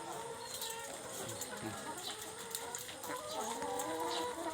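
Many chickens cluck and chatter at once on an egg farm, a busy continuous flock sound with overlapping calls at moderate distance.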